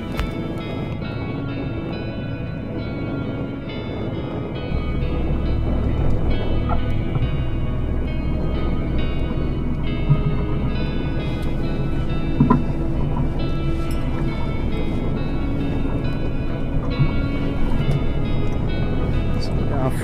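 A sailboat motors forward on the water, its engine a steady low drone that grows louder partway through, with wind and water noise and occasional talk over it.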